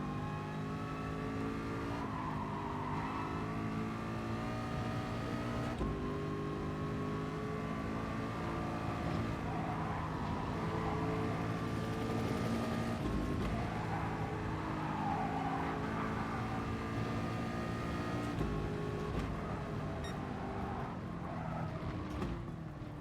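A Ford mid-engine race car in Gran Turismo Sport drones steadily and loudly at high revs, its engine note rising and falling through corners with occasional tire squeal, and no one talking.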